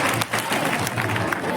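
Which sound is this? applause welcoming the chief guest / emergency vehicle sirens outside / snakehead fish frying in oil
applause welcoming the chief guest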